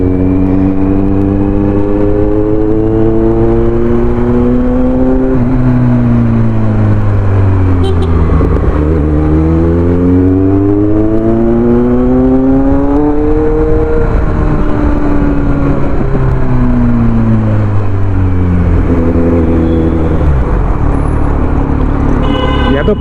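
Road traffic in heavy rain heard from a Kawasaki Z900 superbike stuck among stopped vehicles: a loud, steady engine drone with pitch that swells and falls as vehicles rev and pass close by, constant throughout.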